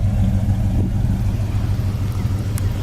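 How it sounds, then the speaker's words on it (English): A 1970 Ford Torino engine idling through dual exhaust, a steady low, throaty rumble with a pulsing burble, close and fairly loud, with no talk over it. "Dual exhaust sounds good as well."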